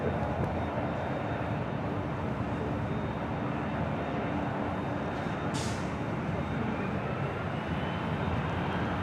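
A Boeing 757 once flown by Northwest Airlines rumbles at Los Angeles International Airport, a steady, moderately loud engine drone that holds evenly throughout with a brief hiss partway through.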